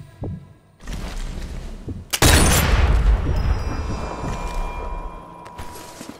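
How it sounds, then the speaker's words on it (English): An explosion in the video game Sniper Elite 4: a sudden loud deep boom that erupts and then rolls into a long rumbling, debris-filled decay, preceded by quieter game ambience. "who knew that they heard my explosion?"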